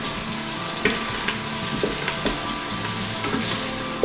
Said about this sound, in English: And just let your garlic go for a couple of minutes